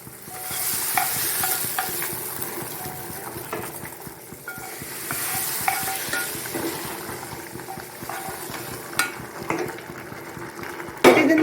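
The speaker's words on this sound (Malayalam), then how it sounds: "നന്നായി ഒന്ന് ഇളക്കി കൊടുക്കാം നന്നായി ഉരുളക്കിഴങ്ങൊക്കെ ഒന്ന് ഇങ്ങനെ ഉടച്ചു കൊടുക്കാം" Tomato and potato curry is stirred and mashed in a frying pan, with continuous close sizzling and rhythmic scraping and clinking of a spoon against the pan, no voices.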